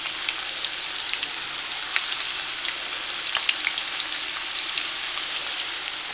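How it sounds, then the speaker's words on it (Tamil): Onions fry in a pan for biryani-style cooking, a steady hiss and sizzle with scattered crackles and occasional stirring scrapes, no voices. "இதை வந்து நம்ம நார்மலாக பிரியாணிக்கு ஆனியன் ஃப்ரை பண்ணுற மாதிரி நம்ம ஃப்ரை பண்ணிக்கலாம்."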